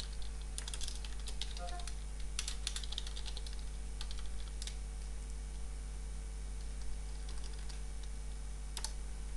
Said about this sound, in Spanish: escribo mi contraseña